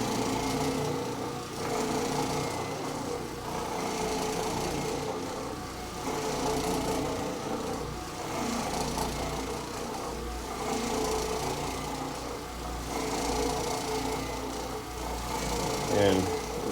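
An Oreck Orbiter floor machine agitating carpet, a steady loud motorized hum and rumble that runs throughout with slow swells in level, and a voice talking over it.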